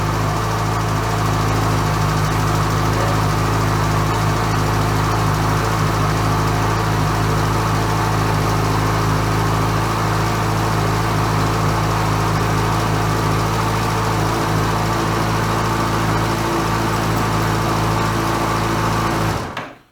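A 2010 Yamaha XJ6 Diversion S motorcycle ticks over at a steady idle, a continuous close, even engine hum that holds for the whole stretch and cuts off at the very end.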